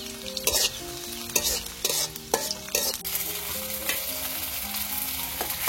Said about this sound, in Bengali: পেঁয়াজ কাঁচামরিচ খুব ভালোভাবে ভেজে নিচ্ছি।